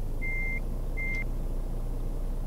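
Two electronic truck reversing beeps in Euro Truck Simulator 2, a longer tone then a shorter one, sound over a steady low engine rumble, with the rumble continuing alone afterward.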